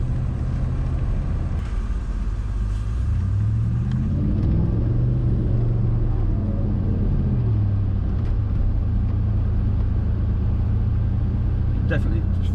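Twin-turbo 4.6 V8 Range Rover P38 pulling away, a deep rumbling engine rising in pitch under acceleration, heard from inside the cabin at steady volume with people talking over it.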